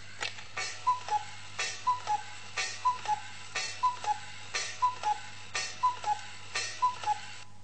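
A cuckoo clock ticks in an even, steady tick-tock rhythm of about two beats per second, crisp and close against a low background hum, with no speech.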